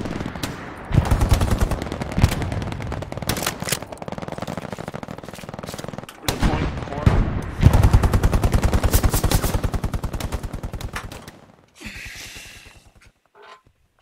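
A machine gun fires from a trench toward a bridge in a video game, letting off long, loud, sustained automatic bursts with brief gaps between them. A short, quieter burst comes at the end.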